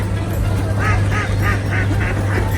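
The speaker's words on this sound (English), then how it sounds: "Bloody birds everywhere, guys. Oh, look at them all. Loads of ducks." Ducks and other birds, with pigeons nearby, call in a busy flock at the Skegness seaside, giving a run of repeated honking quacks at a steady pulse over constant outdoor background noise, close and fairly loud.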